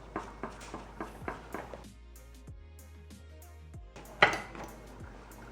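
Spaghetti squash strands scraped from the sides of the shell onto a plate with a utensil, giving a run of light, quick clinks and scrapes up close, then a pause and one sharper knock.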